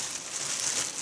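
Plastic packet of Japanese candy being crinkled by hand, a continuous bright rustling close by that lasts about a second with no voices over it.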